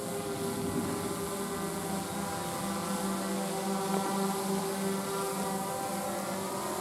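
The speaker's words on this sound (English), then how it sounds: "It's getting pretty close. Oh, no. It's a smart drone." A small autonomous search-and-rescue drone flies close by, its steady whirring buzz loud and continuous with a faint tonal hum throughout.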